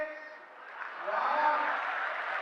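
An audience at a Hindi comic poetry gathering claps in a steady wash of applause that swells slightly midway and holds, heard from a distance with no other sound.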